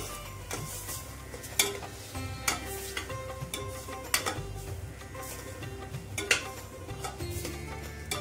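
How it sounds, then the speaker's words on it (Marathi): Spices sautéing with onion and tomato in a pan for pav bhaji, a steady sizzle broken by repeated clinks and scrapes of a spoon stirring, with no voice heard. "मसाले आपल्याला कांदा टोमॅटो मध्ये छान परतून घ्यायचा आहे।"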